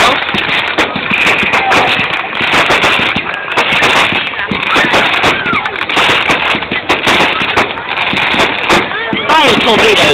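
Bonfire night firework display at a welfare ground in Rainworth, with loud crackling bursts and dense popping throughout, heard amid crowd chatter and people talking nearby.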